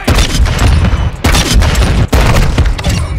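A Desert Eagle pistol fires in Modern Warfare 2, producing loud, close, booming shots with heavy layered reports that blur into continuous gunfire, broken by two brief gaps.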